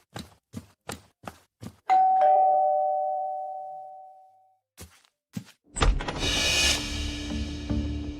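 A doorbell rings inside a house at night: five sharp knocks or taps, then a long harsh tone that slowly fades, a couple of thuds, and a loud burst of noisy clatter at the end.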